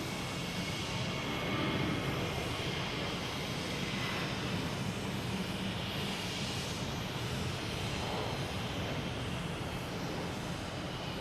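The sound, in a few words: JetBlue airliner at Boston Logan Airport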